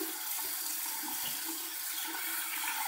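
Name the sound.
hot water running from a tap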